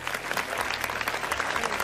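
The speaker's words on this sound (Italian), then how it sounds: "Applausi a Franciccio!" A short burst of steady crowd applause in the video game Record of Lodoss War: Deedlit in Wonder Labyrinth, clapping dense and even throughout.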